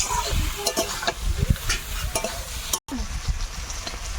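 Duck meat is stirred into spice paste frying in a pan, with scraping spoon strokes, irregular clatter and a soft sizzle underneath, close up and moderately loud.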